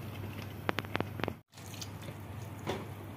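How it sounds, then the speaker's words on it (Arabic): Lentils and tomato spatter in hot oil, a steady wet sizzle with a quick run of sharp pops and crackles in the middle, close up, briefly cut off, then sizzling on with scattered pops. "بيتطرطش جامد، خلي بالكم، خلي بالنا في الطرطشه بتاعت العدس بالزيت هي والقوطه"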